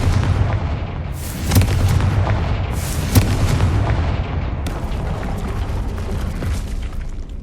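Confringo blasting curse in the video game Hogwarts Legacy, a dense stretch of loud booming blasts and bursts with sharp cracks near 1.5 and 3 seconds over a continuous rumbling battle din.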